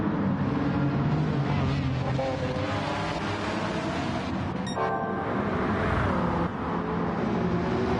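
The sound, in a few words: BMW M3 CSL race car engine in video game Gran Turismo 7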